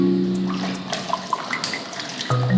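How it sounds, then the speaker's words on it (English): Tap water runs and splashes as 50 grams of dried shiitake mushrooms are quickly rinsed, a close continuous trickle with small spatters, no voices. "We'll first quickly rinse 50 grams of dried shiitake mushrooms to remove any dirt."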